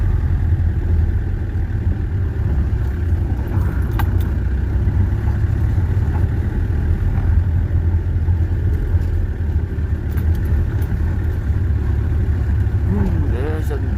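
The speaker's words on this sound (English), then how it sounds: "you can go right down to idle and put the foot down and it will pick up." A Peugeot 404 diesel engine runs steadily on a mountain pass in the Baviaanskloof, heard from inside the car as a loud, continuous low rumble that holds for the whole stretch with no clear break or surge.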